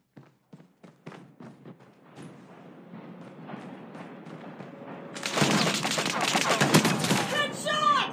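Shots ring out in a first-person shooter video game: scattered single gunshots early on, building into a dense, loud volley of rapid gunfire in the final seconds.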